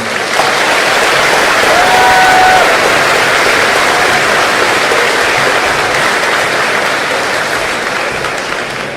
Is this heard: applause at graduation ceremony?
yes